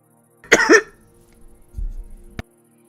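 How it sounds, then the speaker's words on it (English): A single sharp cough close to the microphone, followed by a low rumbling throat noise and a brief click, with no talk. "I coughed in your ear."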